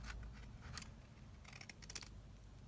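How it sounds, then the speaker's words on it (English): Scissors snip through a single sheet of paper being trimmed for a pocket booklet, giving a few quick, crisp cuts in small bursts, close and moderately loud against a quiet room. "So just get your scissors and just kind of like snip that out."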